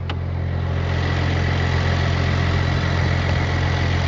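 An Audi RS5 with a 2.9-litre V6 bi-turbo engine idles at a steady, unbroken rumble, loud and close, with a deep low hum and no voices.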